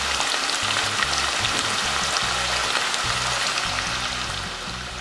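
New potatoes frying in hot oil in a cauldron, a steady dense sizzle with faint crackling, continuous and close, slowly easing slightly toward the end with no talking.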